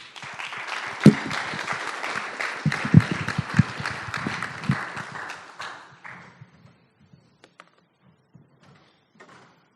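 An audience applauds a speaker at a morning business networking event. The dense clapping fills the room, then thins out after about six seconds into a few scattered claps before silence.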